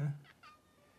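House cat giving a short, strained meow that trails off, followed by a couple of faint, brief squeaky vocal bits, close and quiet.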